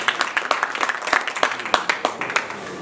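Applause from a crowd at a fundraising gathering, a steady, dense patter of many hands clapping close by, with scattered voices mixed in throughout.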